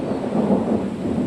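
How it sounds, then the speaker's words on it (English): Low rumbling thunder rolls from an approaching thunderstorm, a steady dense roar filling the whole moment, fairly loud with no speech. "we're about to have a major thunderstorm"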